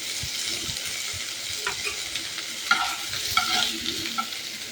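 Chopped potatoes with salt fry in a pan as a Bengali semolina khichuri is cooked, giving a steady sizzle broken by stirring scrapes and clinks of a utensil, close and continuous.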